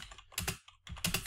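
Several quick keystrokes on a computer keyboard while entering a row vector in MATLAB, close and fairly quiet, in two short clusters split by a brief pause.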